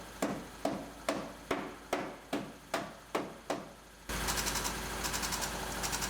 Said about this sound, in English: And we'll hammer out the rest of them.